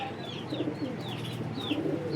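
Pigeons coo in a loft of high-flying birds, several soft rolling coos repeating close by over a low background hum, with no talk.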